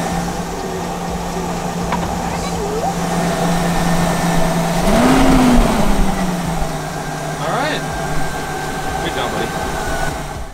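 A Ford F53 Class A RV engine running steadily after a fuel pump repair, a loud close idle with a brief swell in revs midway, plus faint background sounds.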